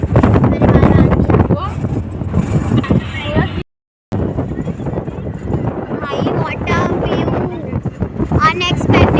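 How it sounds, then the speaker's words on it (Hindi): Strong wind buffets the microphone outdoors in gusty roaring bursts while someone talks over it throughout, with a brief dropout partway through. "बहुत ज़्यादा तेज हवा चल रही"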